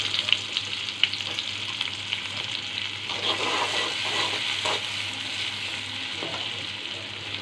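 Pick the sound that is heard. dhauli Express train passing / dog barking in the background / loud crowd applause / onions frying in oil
onions frying in oil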